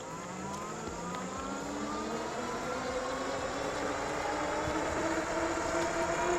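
Movcan V60 Pro electric bike accelerating at full throttle, a rising motor whine climbing steadily in pitch over wind rumble, continuous and moderately loud throughout.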